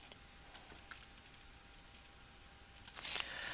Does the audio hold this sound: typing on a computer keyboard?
yes